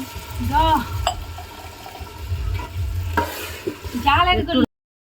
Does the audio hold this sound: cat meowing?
no